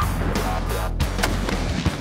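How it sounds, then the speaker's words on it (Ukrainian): An RPG-7 grenade launcher fires in an open outdoor range, a sharp loud blast followed by rolling noise and a second thump, all close and dominant with no talk. "Наш старий знайомий Володя вирішив зблизька роздивитися, як відбувається постріл із РПГ-7"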